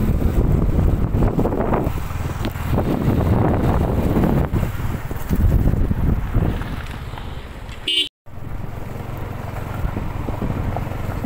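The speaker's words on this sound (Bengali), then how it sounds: "দেখো বেরোচ্ছি, কি হাওয়া, প্রচণ্ড হাওয়া ছিল, বৃষ্টিটা নামেনি তখনও।" Strong gusting wind roars outdoors ahead of a storm, a loud, continuous buffeting that rumbles across the microphone almost throughout, with a brief sharp dropout near the end.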